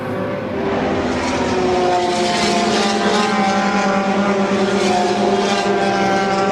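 GT race cars roaring down the long straight past the pits at Paul Ricard, a loud sustained high-revving engine drone with shifting harmonics, steady throughout.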